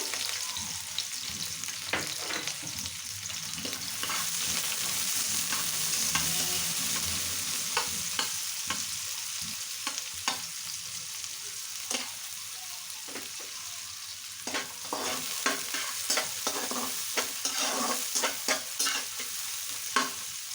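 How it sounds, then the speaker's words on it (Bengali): Onions frying in hot oil until light brown, a steady close sizzle with scattered crackles and occasional scraping stirs, no voices. "এরপর যে আমি পেঁয়াজগুলোকে একটু হালকা ব্রাউন কালার করে ভেজে নেব"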